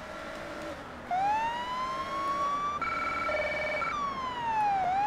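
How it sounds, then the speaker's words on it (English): Police car siren in a highway patrol video game, a loud, continuous electronic wail whose pitch sweeps slowly up and down, switching once into a higher steady tone before returning to the rising and falling cycle. "I would have thought they would put different sirens on this car"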